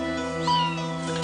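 A single cat meows once, close and fairly clear, over a steady electrical hum, at a home where many cats were seized from a one-bedroom apartment.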